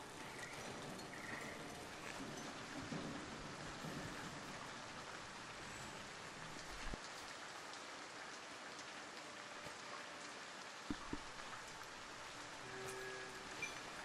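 Rain falls steadily outdoors, a dense continuous hiss of drops on surfaces with a couple of brief low thumps, even in loudness throughout and without any talking.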